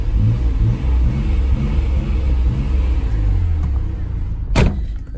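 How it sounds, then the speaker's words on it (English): A Nissan Skyline GT-R R32 engine revs close by in a series of rhythmic, rising bursts over a steady idle rumble, then settles and ends with a single sharp knock. "Let's boost up the car a little bit."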